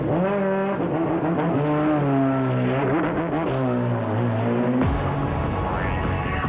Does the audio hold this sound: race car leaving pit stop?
yes